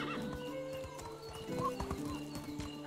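A horse in the Medieval Dynasty video game gallops with steady clip-clop hoofbeats and gives a clear neigh partway through, all fairly quiet.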